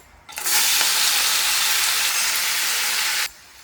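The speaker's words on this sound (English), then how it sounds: "I have sauteed 2 large tomato chunks in it with a sprinkle of salt" Two large chopped tomatoes sauté with a sprinkle of salt in mustard oil in a small pan, a steady close sizzle that starts abruptly, holds evenly for about three seconds and then cuts off.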